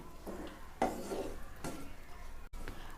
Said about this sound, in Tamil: தண்ணி சேர்த்து நல்லா கலந்து விட்டுருங்க.